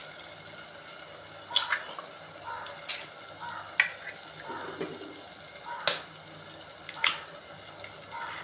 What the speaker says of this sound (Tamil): இப்போ நம்ம இதில் முட்டை உடைச்சி ஊற்றிக்கலாம்.